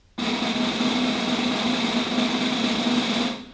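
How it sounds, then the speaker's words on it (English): A long concert-style drum roll sustains as a dense, even buzzing wash with a steady strong body, starting abruptly and holding level for over three seconds before fading. "the first is the long roll in the concert style,"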